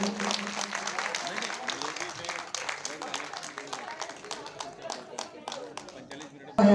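Hall audience clapping in honour at an award ceremony in Indore, a dense steady patter of many hands lasting several seconds, moderately loud, with voices murmuring underneath.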